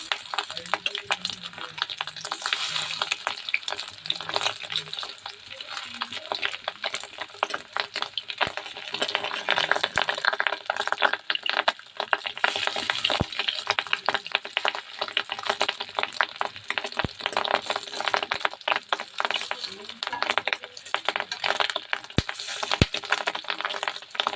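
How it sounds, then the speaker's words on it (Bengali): Steady, dense crackling and sizzling of fish roe fritters frying in hot oil, continuous throughout with small pops and occasional sharper cracks. "ফটফট করে ফুটছে"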